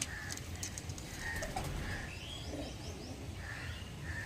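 Pigeons kept for sale, including Punjabi, cargo and Chennai breeds, coo faintly in short repeated calls over a steady low background hum.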